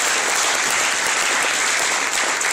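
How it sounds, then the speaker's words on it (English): An audience at a We Are Second Leadership XP 2012 event claps steadily, a dense, even wash of many hands that fills the whole moment with no voices over it. "That's your turn to clap."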